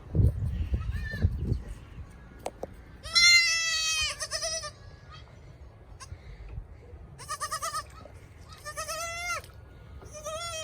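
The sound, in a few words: goats bleating, mother goat with newborn kids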